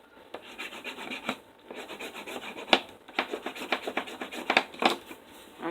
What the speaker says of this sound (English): I am taking a bone folder just to make sure my tape is secure.